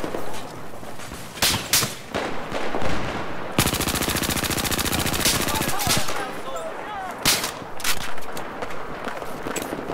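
An MG4 machine gun fires in Battlefield 4: sustained rapid automatic bursts, one long unbroken stream in the middle, mixed with other gunfire and explosions in a loud, busy battle, with players talking over it.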